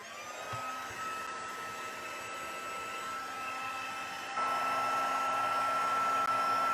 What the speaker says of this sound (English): Good thing about the heat tool is once you start using it, it gets quicker and quicker, doesn't it?